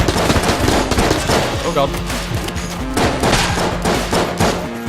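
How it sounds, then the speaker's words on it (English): Rapid Tommy gun fire from ghost enemies in the video game Enter the Gungeon, dense bursts of automatic shots mixed with game effects and music, with a player exclaiming over it. "Ghosts! With Tommy guns!"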